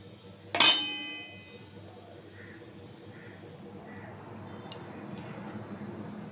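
A spoon clinks sharply once against a pan of breakfast oats topped with coriander leaves, then soft, faint stirring continues under a low background hush.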